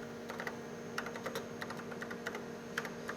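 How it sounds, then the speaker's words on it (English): Quiet, fairly rapid keystrokes on a computer keyboard as a program is typed in, irregular clusters of clicks over a steady low hum in an indoor lab with a PUMA robot setup. "So I'll type in this in the command, and then I will execute it."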